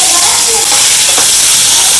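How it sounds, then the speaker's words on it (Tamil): Mustard seeds, green chili, shallots and salt sauté in hot oil, giving a loud, dense, continuous sizzle with faint stirring underneath, close up and steady throughout. "பச்சை மிளகா, சின்ன வெங்காயம், உப்பு போட்டு வதக்கணும்னா சீக்கிரம் வதங்கிடும்"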